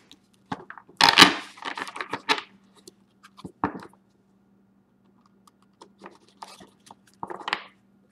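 A deck of tarot cards is shuffled, with a cluster of papery riffling and flicking in quick bursts, then sparser taps and slides of cards against a quiet background.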